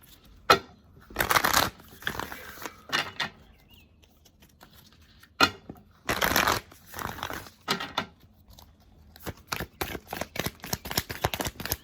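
Tarot cards being shuffled and handled on a table, with several short riffling bursts separated by quiet pauses and then a run of quick flicks and taps, close and crisp.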